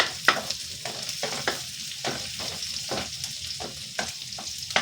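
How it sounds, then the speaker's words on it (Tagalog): Vegetables sautéing in oil with garlic and onion for pancit canton, a steady close sizzle broken by repeated scraping stirs of a utensil against the pan. "Gisa-gisa lang po sa mantika, bawang, sibuyas."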